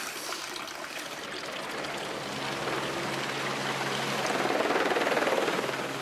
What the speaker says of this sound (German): Der Heli kann fliegen. Es kommen Vorräte für die nächsten paar Wochen.